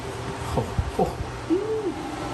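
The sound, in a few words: bird calling inside the garage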